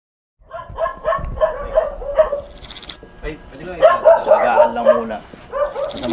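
A dog barks and yips repeatedly nearby in uneven bursts, with a person talking over and between the barks.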